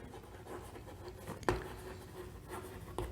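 Words written by hand during a biology lesson, heard as soft scratchy strokes over a steady room hum, with a couple of sharper taps.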